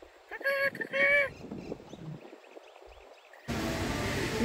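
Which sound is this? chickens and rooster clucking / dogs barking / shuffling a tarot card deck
chickens and rooster clucking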